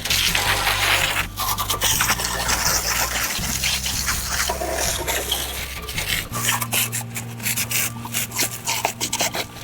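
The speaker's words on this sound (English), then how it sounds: "so I'm gonna shoot it with some water." Water sprays in a steady, rushing hiss against an old wringer washer being cleaned out, with rubbing and scraping noises underneath and a low mechanical hum running throughout, close and continuous with no talking.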